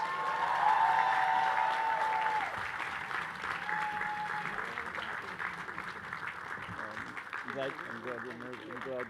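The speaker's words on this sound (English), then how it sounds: "Please, everyone, a warm round of applause." A commencement crowd at a community college graduation breaks into warm, sustained applause for a congresswoman, steady clapping that fills the hall while a voice speaks over it near the end.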